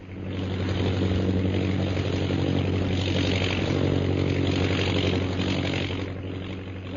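A propeller plane drones high over the hills of Upper Burma in an old-time radio drama, a continuous, loud, steady engine hum that swells slightly and eases near the end, with no voices.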